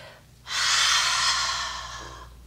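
Heavy exhalation during a HIIT yoga workout: one long, loud, breathy rush of air that fades over about two seconds, close and alone.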